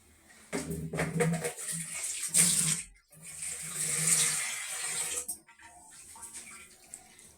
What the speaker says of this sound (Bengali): এবার এটাকে পানি দিয়ে আমরা কিছুক্ষণ ভাপিয়ে নিব বা সিদ্ধ করে নিব